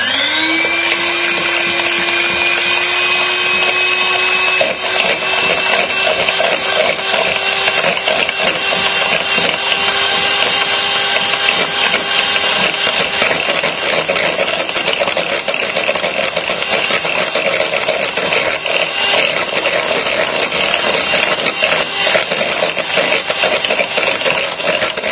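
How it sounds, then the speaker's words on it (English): An electric whisk beats a single egg white for a white chocolate mousse, giving a loud, steady motor whine close by. The pitch dips slightly early on, then holds unbroken for about twenty-five seconds without speech. "all we're going to whisk is this together so that it massively increases in volume"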